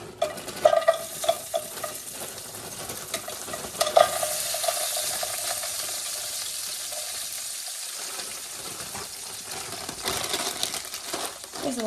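Diced hash browns from Stater Brothers fry in a pan with a steady close sizzle, broken early by clinking scrapes of a utensil stirring and turning them.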